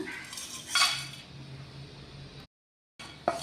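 Cinnamon and cloves dry-roast in a pan with coriander, pepper and fenugreek for sambar powder, giving a faint, steady rattle and scrape of stirred spices. A brief silent gap follows, then a light clink.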